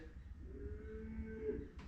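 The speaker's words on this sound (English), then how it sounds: "That was my cow." A cow lets out a single drawn-out moo on a farm, faint and somewhat distant, over a low rumbling background with no speech.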